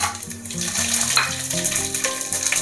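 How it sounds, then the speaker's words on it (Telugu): Whole spices hit hot oil while cooking a paneer and soya chunk biryani, setting off a steady, close sizzle that runs beneath tonal background music throughout. "ఆయిల్ హీట్ ఎక్కింది కదా ఇప్పుడు మనం మసాలాలు వేసేసుకుందాము"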